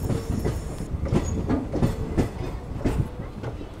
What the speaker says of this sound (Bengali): আমাদের ট্রেন ঢুকছে এখন আজিমগঞ্জ জংশনে প্ল্যাটফর্ম নাম্বার 1-এ